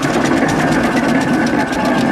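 A full-size steam traction engine runs at a steam rally, giving a loud, close, steady mechanical churn with a faint regular pulsing beat and no pauses.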